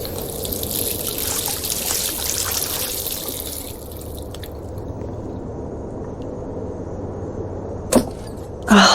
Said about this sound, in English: Last time I wanted to splash some water on my face